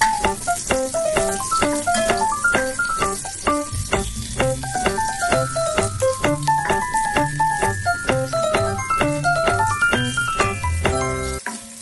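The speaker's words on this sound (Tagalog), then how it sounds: "nauna na yung bawang at sinundan ng luya, pero medyo pa-brownin natin ng kunti para lumabas yung aroma" Garlic and then ginger sizzle in a pan as they brown, a steady frying hiss running under louder background music.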